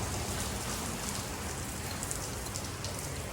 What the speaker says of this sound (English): It's starting to rain like hell too